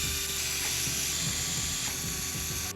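Screws on a Traxxas TRX-4 differential cover being loosened with a driver give a steady, close mechanical ratcheting clicking throughout.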